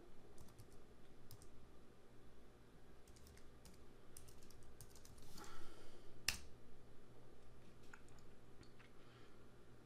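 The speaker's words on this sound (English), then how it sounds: "You need to type following command" Typing on a computer keyboard while entering a Raspberry Pi terminal command: quick clicking keystrokes in scattered bursts, fairly faint, with a sharper clatter near the six-second mark.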